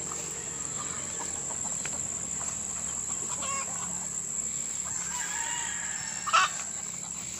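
Chickens around a backyard coop, with a rooster crowing and hens clucking at a moderate distance over a steady outdoor insect hum.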